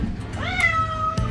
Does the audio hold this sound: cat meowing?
yes